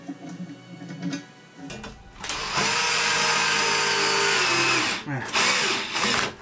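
A power screwdriver drives a small 4 mm screw during workshop glass-partition construction, giving a loud, close, steady whirring burst for a few seconds that stops briefly and then starts again. Someone speaks briefly before and after.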